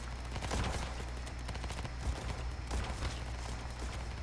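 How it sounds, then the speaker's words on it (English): Heavy gunfire in the battle game Ancient Warfare 3: a dense, continuous fusillade of overlapping shots and rumbling reports, steady and loud throughout without pause. "We are under very heavy fire."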